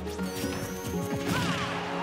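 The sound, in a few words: forward smash attack landing in Super Smash Bros video game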